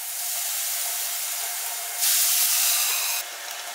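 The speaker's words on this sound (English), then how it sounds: "Cover with the lid to let it cook and add some broth to let it steam." Broth hissing and steaming under a lid in a covered pan of potatoes during stuffed chayote preparation, a steady close sizzle-hiss that briefly swells louder midway, then settles back, with no talk.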